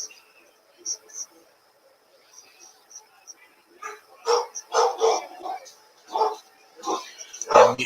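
A dog barks in a few short bursts indoors, the yaps coming in uneven clusters over a quiet room, closest and loudest near the end.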